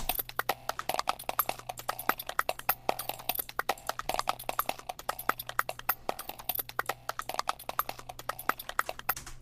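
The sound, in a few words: glitchy looped percussion beat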